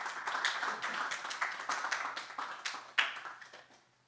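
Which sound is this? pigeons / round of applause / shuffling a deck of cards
round of applause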